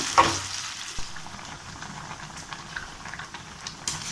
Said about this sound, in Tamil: நல்லா சிவக்க வறுத்து எடுத்துப்போம் நம்ம சிக்கனை.